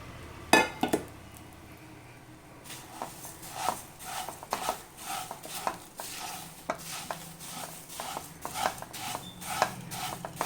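Flattened rice (aval) roasts in ghee in a pan, with repeated scraping and stirring strokes of a spoon against the metal, irregular and close, over a faint sizzle.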